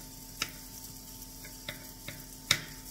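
Onions and apples cook in a frying pan with a faint, steady sizzle, broken by a few soft clicks and taps of a utensil against the pan.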